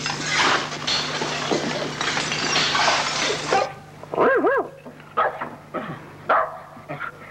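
A dog at earthquake rubble gives a series of short whining yelps and barks, spaced apart after a stretch of rough, noisy background, close and fairly loud.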